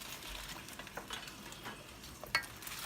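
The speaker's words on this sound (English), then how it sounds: "And let's put our collard greens in." Fresh collard greens drop into a pot of neck bone broth, giving a faint, soft rustling and wet stirring sound with a small clink near the end, close by and quiet.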